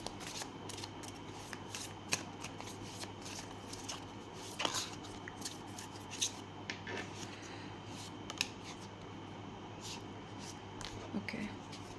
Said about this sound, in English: And then I'll be taking your tarot cards.